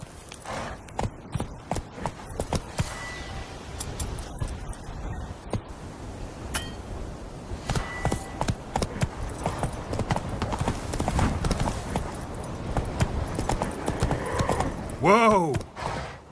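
Horse hooves in The Witcher 3: Wild Hunt, with repeated clip-clop steps that speed up into a steady gallop, some jingling tack, and a whinny near the end, with speech at times.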